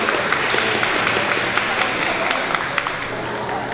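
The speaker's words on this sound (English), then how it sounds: "could we have a round of applause for the sponsors?" Community event crowd giving a round of applause for the sponsors, a dense, loud wash of clapping lasting throughout with a few sharper individual claps standing out.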